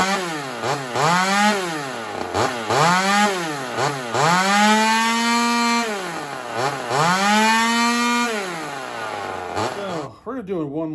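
A ported Homelite XL-76 chainsaw engine with carburetor trouble runs close and loud, revving up and down repeatedly with rising and falling pitch before it cuts off near the end.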